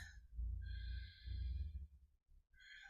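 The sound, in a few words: gentle deep breath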